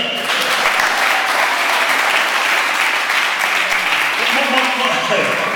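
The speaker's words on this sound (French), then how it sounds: "On acclame le Seigneur." A church congregation applauds at a Sunday service, with loud, dense, sustained clapping filling the whole stretch and voices cheering faintly underneath.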